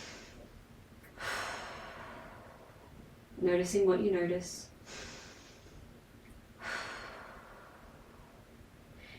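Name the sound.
slow breathing during deep squat pose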